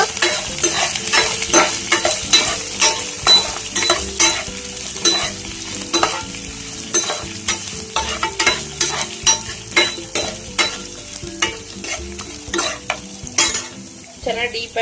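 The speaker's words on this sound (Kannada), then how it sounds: "ಚೆನ್ನಾಗಿ ಎಣ್ಣೆಲಿ ಫ್ರೈ ಮಾಡ್ಕೊಳ್ಳಿ ಈ ಥರ" Red chillies, coriander seeds and pepper fry in hot oil in a pan for a potato, mushroom and field bean kurma, with a steady loud sizzle and frequent scraping stirs throughout, and no voices.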